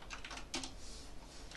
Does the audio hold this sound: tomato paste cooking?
no